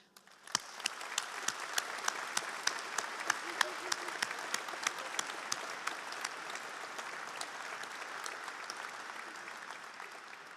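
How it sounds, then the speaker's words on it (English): A graduation ceremony audience at the University of Lincoln gives a round of applause, sharp individual claps standing out over a steady, moderately distant wash of clapping that begins abruptly and carries on throughout. "thanking them with a round of applause for their support during your time at Lincoln"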